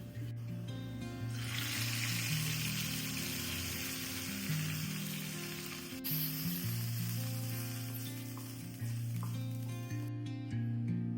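Onions and bitter gourd sizzle steadily in a hot pan for a Kerala pavakka theeyal, a close, continuous frying hiss with occasional stirring scrapes and no talking.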